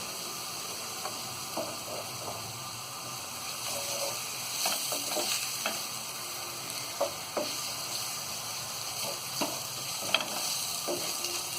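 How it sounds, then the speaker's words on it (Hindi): Steady oil sizzling and frying in a pan as green chilies are added for a keema fry, with occasional stirring scrapes and small pops, continuous and close, no talking. "अब इसमें हम ये हरी मिर्च को डाल देंगे।"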